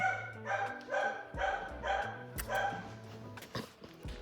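An old female dog barks repeatedly in short bursts close by, with a few whimpering yips between them and little else around.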